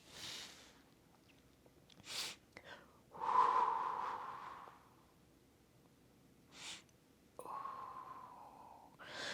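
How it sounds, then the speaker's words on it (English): Heavy, audible breaths during mat Pilates exercise, deep inhales and forceful exhales, close to the mic, repeating in an uneven rhythm with quiet gaps between them. "there might be a tad of heavy breathing in this regard"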